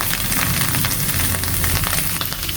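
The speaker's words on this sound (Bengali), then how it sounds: "সোয়াবড়িগুলো ভালো করে ভেজে নিতেছি" Soya chunks fry in a pan on a village kitchen stove. A dense, loud, steady sizzle and crackle runs throughout with faint stirring beneath it, and no voices.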